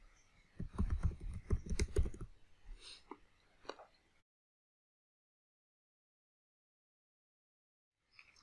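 Someone types a terminal command on a computer keyboard, a quick close burst of key clicks, then a few scattered taps, before silence.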